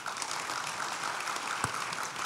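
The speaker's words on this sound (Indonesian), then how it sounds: "Mari kita beri tepuk tangan untuk mereka berdua." Audience applause at a conference session honouring two speakers: a short burst of steady, moderately loud clapping from a seated crowd with one sharper clap standing out near the end.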